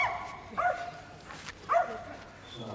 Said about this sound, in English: Nigel Staines then, with Scorch, 5-year-old working Kelpie, self-bred dog.